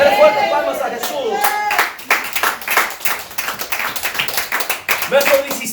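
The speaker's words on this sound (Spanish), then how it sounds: "Dale fuertes palmas a Jesús." A church congregation claps hands loudly in a fast, steady burst of overlapping claps, with a voice speaking over the start and voices calling out through it.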